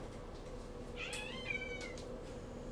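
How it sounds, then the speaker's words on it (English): Cats meowing in a World of Warcraft game, two short rising and falling meows close together, faint over a steady background hum. "they're going to hear meow, meow, meow, meow in a second"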